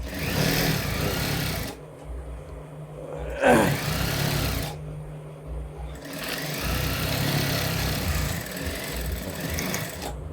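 A mini sewing machine stitches a salwar in bursts, its fast mechanical whirr running, stopping twice for a few seconds, then resuming steadily, with a brief rustle of cloth between runs.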